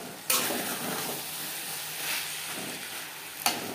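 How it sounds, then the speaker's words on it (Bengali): Drumsticks and eggplant cook in a pan over medium flame, a soft, steady sizzle with two sharp scraping knocks of a stirring utensil near the start and end, quiet and without voices. "ডাটার সাথে বেগুন বেশ ভালো করে মিক্স করে দেবো।"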